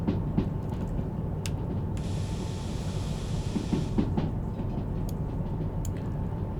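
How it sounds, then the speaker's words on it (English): Train brakes on a tanker train rolling downhill in the Derail Valley railway simulator, with a steady rumbling rail noise and a sustained hiss of air-brake release lasting about two seconds, plus occasional clanks. "So we'll get some brake on here."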